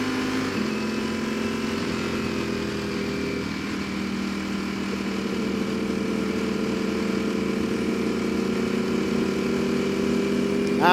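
2019 Ducati Panigale V4 motorcycle engine while riding in second gear, a steady close mechanical hum with a pitch shift early on as it continues smoothly.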